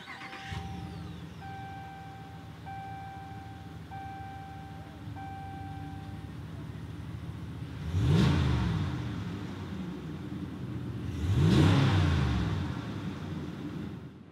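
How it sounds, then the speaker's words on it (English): A 2019 Ram 1500 Rebel pickup started by push button: soft chimes, then the engine cranks and fires with a rising rev flare, settles, and revs briefly again. "let's go ahead and start it up"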